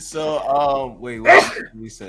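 A single short sneeze bursts out in the middle of a casual postgame basketball talk show, loud and close, with people talking just before and after it.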